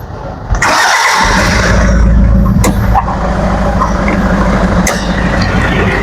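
A Toyota HiAce 2.4 commuter van with a 2400 cc engine cranks briefly and fires up, then settles into a loud, steady idle close by.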